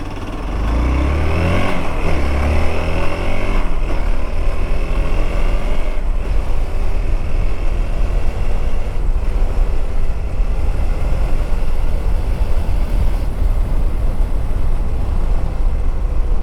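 A rebuilt car engine revs up through each gear to around 4,000 to 5,000 RPM, loud and close, in repeated rising-and-falling sweeps that settle into a sustained steady drone with no talking.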